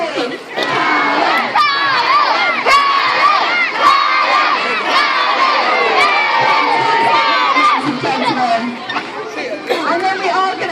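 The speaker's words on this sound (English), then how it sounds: "I want to hear you all chanting his name from the minute his bum hits that tower" A large crowd of children and adults shouts and cheers loudly and continuously at a sea lion show at West Midlands Safari Park, with excited whoops and yells throughout.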